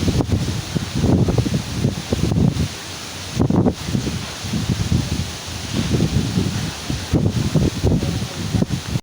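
Strong wind in a dust storm at SM Mall of Asia buffets the microphone in heavy gusts, with rustling and roaring rising and falling throughout.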